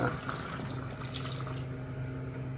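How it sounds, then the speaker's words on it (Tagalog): Tap water running steadily into a pot of mung bean stew with pork hock, a continuous close splashing pour that lasts throughout without speech. "Lagyan natin tubig at kulang na"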